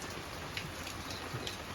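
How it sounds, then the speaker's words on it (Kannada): Steady rain pours outside a house in rural Coorg, a dense even hiss with faint scattered drops and no voices. "ಇನ್ನೂ ಮಳೆ ಬರ್ತಾನೇ ಇದೆ"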